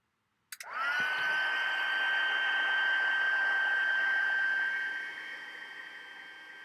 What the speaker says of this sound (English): now I am going to use the heat tool next, and this is going to melt our powder